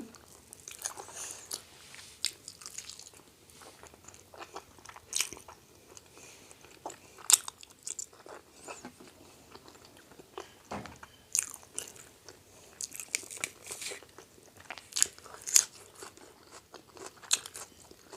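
Close, wet crunching and chewing of spicy Thai fish laab with sliced raw garlic and onion, irregular bites and mastication clicks repeating steadily, with no talk.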